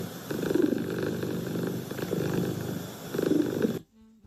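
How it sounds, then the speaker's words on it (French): A cat purrs close up in a steady, rumbling rhythm of breaths, stopping abruptly near the end. "quand vous touchez le chat, il ronronne. Il fait un bruit comme un petit moteur."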